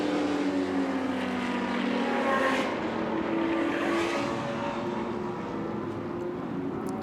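A Group 5 race car accelerates hard at high speed, its loud, sustained engine roar rising and falling in pitch as it passes nearby.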